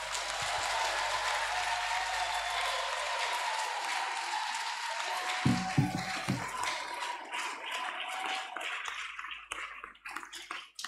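Applause from a congregation at a youth church service, a broad continuous wash of clapping that swells, gains a few louder bursts midway, then thins and trails off toward the end.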